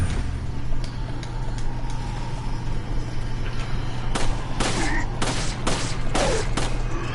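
Handgun gunshots in the Resident Evil 4 video game, a rapid series of five or six sharp shots in the latter half over a steady low hum, fairly close and evenly spaced.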